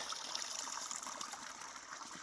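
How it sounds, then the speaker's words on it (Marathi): Borewell water flowing steadily in a farm field, a soft, even rushing hiss that stays faint and continuous throughout, with no voices. "अशा प्रमाणात आपल्या बोरचं पाणी चालतं आहे"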